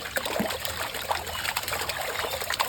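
Water trickles and splashes continuously as dirty puppies are rinsed during a bath, a close, busy running stream with small irregular splatters throughout.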